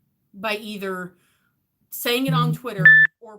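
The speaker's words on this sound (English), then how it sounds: "That was my phone going off." A phone notification chime sounds briefly between stretches of speech, a short steady tone that cuts in loud near the end while a person keeps talking.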